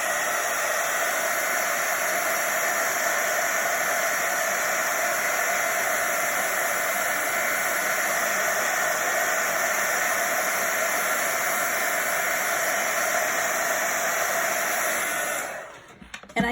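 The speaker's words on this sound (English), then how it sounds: "Then I used my heat gun." Heat gun blowing hot air onto plastic, a steady loud whooshing hiss with a whine, close and unbroken for about fifteen seconds before it is switched off, with no talk.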